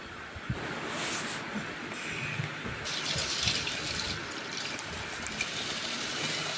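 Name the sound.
washing soaked mixed lentils in clean water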